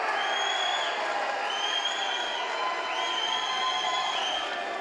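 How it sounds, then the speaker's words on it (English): A boxing crowd at a fight night roars steadily and continuously, a dense wall of cheering for the home fighter. A faint rising tonal whine repeats above it. "Crowd getting behind the home fighter there"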